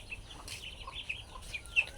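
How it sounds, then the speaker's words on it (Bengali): Ducklings give small high-pitched peeps and chirps, several brief calls scattered over a quiet outdoor background, fairly faint, with no talking. "হাঁসের ছানা দেখেন যে এখানে কতগুলো"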